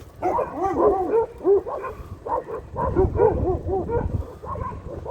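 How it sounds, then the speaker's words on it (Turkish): Street dogs bark repeatedly in quick, uneven bursts at moderate distance, a few yips mixed in, with no talking. "Şu an diğer tarafta havlayan keratalar."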